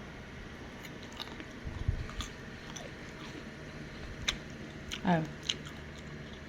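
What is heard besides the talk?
chewing and biting green mango with shrimp paste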